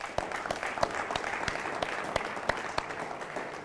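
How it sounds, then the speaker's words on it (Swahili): An audience at an Upper Hill secondary school gives a round of clapping, a moderate patter of many hands with sharper individual claps standing out, steady throughout and heard from a slight distance. "Nashukuru bingo. B+, makofi kwao."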